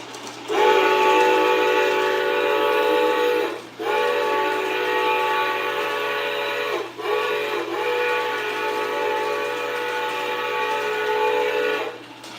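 A Reading locomotive whistle sounded by a Blunami sound decoder in an F scale (1:20.3) model train, played as three long, loud chime blasts with brief gaps and a low running hum underneath.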